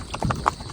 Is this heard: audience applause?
no